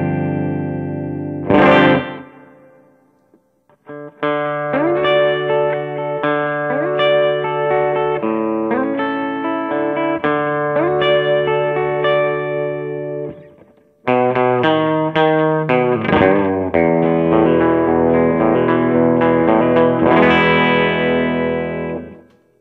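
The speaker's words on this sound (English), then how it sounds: "let's go ahead and hear how the guitar sounds. How the speaker sounds, actually." Electric guitar played through an amp speaker and picked up by a close microphone angled to the grille cloth, with a brief struck chord followed by two long, sustained, effect-laden phrases of chords and notes, loud and alone.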